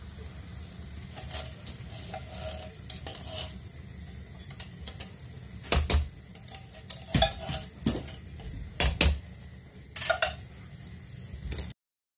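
Coconut milk is stirred into a pot of Thai green curry over a gentle simmering hiss, with a spoon scraping and clinking against the pot in irregular bursts that get busier toward the end. No one speaks.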